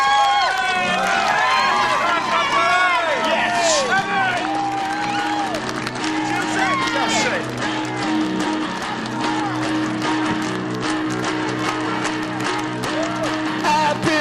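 A TV breakfast show studio audience claps and cheers, with whoops and excited voices rising over dense, sustained applause, and a presenter talking amid the noise.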